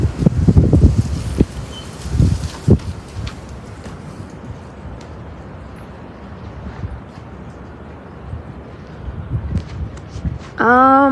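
Gusty afternoon wind outdoors with 20-30 mph gusts buffeting the microphone in low rumbling surges, strongest at the start and again near the end, with faint rustling between gusts.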